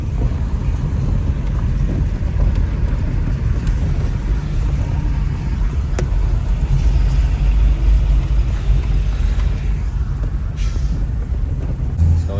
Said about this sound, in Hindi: हमारा ड्राइवर साहब ऑफ रोडिंग कर रहा है।